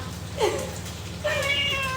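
A cat meows twice, close and fairly clear: a short call, then a longer, drawn-out meow after a brief pause.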